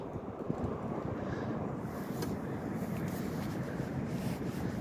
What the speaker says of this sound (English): the wind's blowing straight in towards me now